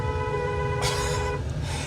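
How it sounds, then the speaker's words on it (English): Truck horn honking at a Freedom Convoy protest, a steady tonal blare lasting about a second and a half over low engine rumble, followed by a brief hiss of air; loud and close, with no talking. "You have been honking it a lot though."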